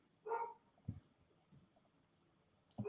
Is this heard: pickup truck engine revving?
no